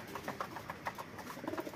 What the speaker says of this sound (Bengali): তো পায়রাগুলো এখন খাবার দিয়েছি